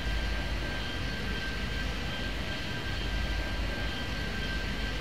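Jet airliner taking off in the airport-management video game Airport Madness 3D, a steady broad engine roar with a faint high whine held throughout, alone without voices.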